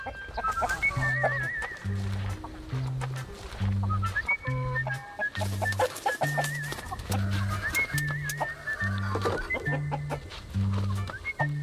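Hens cluck and a rooster calls amid a busy farmyard, with a steady repeating low thumping pattern running underneath throughout.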